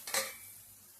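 Cauliflower being stirred in a spice masala in a pan: one short scraping clatter of the spoon against the pan, then a faint quiet tail, with no speech.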